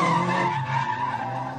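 Car drifting through a coned practice course, tires skidding in a loud sustained squeal that wavers in pitch and fades slightly toward the end, with engine tone underneath.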